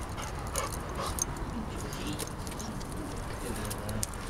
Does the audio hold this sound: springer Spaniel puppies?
yes